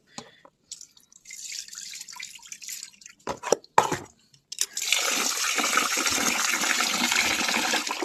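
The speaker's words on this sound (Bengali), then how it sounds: "চালে অনেক কেমিক্যাল পাউডার থাকে, তার জন্য ভালো করেই 2-3 বার করে ধুয়ে নিতে হবে।" Rice being washed in water, with splashing and trickling from a running tap, intermittent at first and then a steady loud stream of water.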